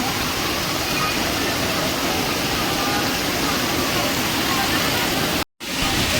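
Heavy rain pours down in a dense, loud, unbroken roar, briefly cutting out near the end before returning.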